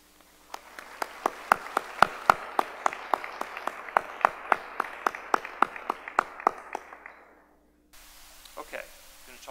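A hall audience applauds orientation and white coat ceremony volunteers at a veterinary college, with steady clapping and sharp individual claps for about eight seconds before it drops away to faint room noise.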